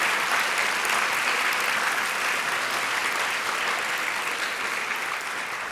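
An audience at a county school board meeting applauds students with sustained, even, dense clapping that fills the room at a steady loud level and fades slightly toward the end.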